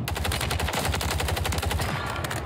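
Rapid automatic fire from the FJX Horus SMG in Call of Duty Warzone on Rebirth Island, a loud, continuous stream of closely spaced shots sustained without a break.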